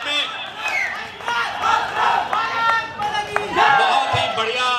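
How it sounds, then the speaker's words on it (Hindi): A large audience at the 12th national Lok Rang theatre festival of 2023 cheers and shouts slogans, a dense and loud wave of voices and calls that holds steady throughout with crowd noise beneath. "बहुत ही बढ़िया, बहुत ही जोशीला जय घोष हो रहा है यहाँ पर।"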